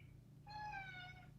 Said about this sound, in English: Shut up, kitty.